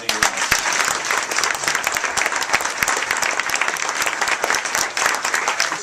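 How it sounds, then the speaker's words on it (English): An audience claps loudly and continuously at a volunteer recognition awards ceremony on Long Island, dense close applause holding steady throughout. "we'll give him a big round of applause when he arrives"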